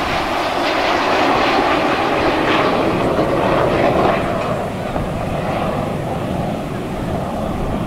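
Red Arrows jets pass at the Atlantic City Airshow, a loud sustained roar of jet engines rising and slowly fading, with wind buffeting and faint commentary underneath.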